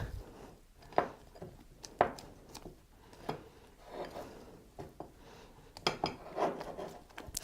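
Sponge cake batter being stirred with food colouring in a bowl, giving a run of close, irregular clinks and scrapes of a utensil against the bowl with soft, wet mixing sounds in between.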